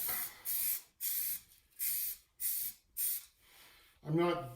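Primer paint sprays from an aerosol can onto a car in six or seven short, evenly spaced bursts of hissing, close and moderately loud, ending with a brief spoken moment.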